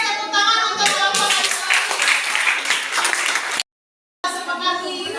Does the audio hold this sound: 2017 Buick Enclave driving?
no